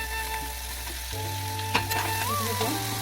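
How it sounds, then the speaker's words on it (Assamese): Sliced bitter gourd dry-fries in a pan with a steady, close sizzle that runs through the whole clip, along with a few faint stirring clatters. "এনেকৈ শুকান কৰি ভাজি ল'লোঁ"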